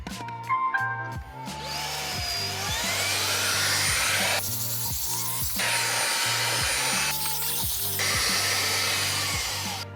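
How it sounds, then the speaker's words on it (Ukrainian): A Jimmy HW10 wet vacuum cleaner whines steadily at close range, its pitch rising and falling as the nozzle scrapes and sucks over textile car mats, with rhythmic dips in the motor. "Давайте спробуємо як справиться цей пилосос з такими ковриками."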